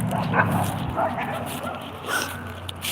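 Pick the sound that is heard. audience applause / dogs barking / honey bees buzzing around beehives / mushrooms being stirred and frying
dogs barking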